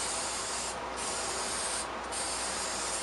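Aerosol spray can misting paint across a guitar body for a two-tone sunburst finish, a continuous close hiss with two brief dips where the nozzle pauses between passes.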